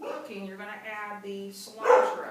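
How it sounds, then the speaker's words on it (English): A dog barks briefly near the end, underneath a person talking through cooking steps in a kitchen while making pinto charro beans. "Sorry about the barking"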